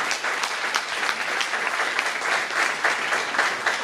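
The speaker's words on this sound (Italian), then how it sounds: "Possiamo fare un applauso a Manuela e Filippo" The audience at EtnaComics 2022, a comics festival, gives Manuela and Filippo a round of applause, steady many-handed clapping at a moderate level throughout with no talking over it.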